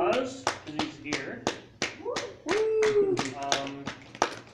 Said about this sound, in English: Round of applause, because he's here.